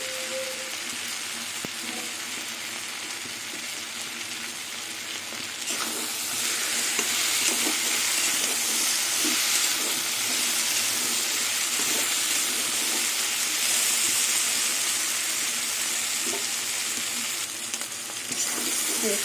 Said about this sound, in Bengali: এবার কিছুক্ষণ এইভাবেই ভেজে যাব